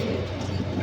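Pigeons in a loft coo in low, soft throaty murmurs, a brief close burst under a steady background hum.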